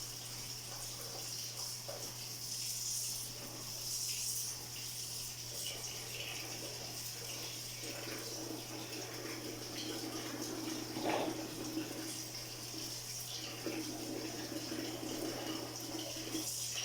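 Tap water runs steadily into a sink while okra is rinsed, a soft continuous splashing hiss with faint clinks and shifts of flow, a low steady hum underneath and no talking.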